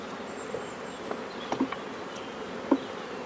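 Honeybees buzz around a production hive trimmed to four brood frames during dandelion bloom, a soft steady drone with a few louder close passes flying by.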